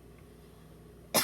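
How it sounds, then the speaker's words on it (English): A single sharp cough bursts out near the end after a quiet stretch of low room hum, close and loud, in a dry basement during a doll-clothes sewing session. "I don't know why I keep coughing"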